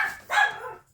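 A single dog's bark sounds alone at close range, a short sharp yelp followed by a brief tailing whine, in a home kitchen where flaxseed bread is being sliced.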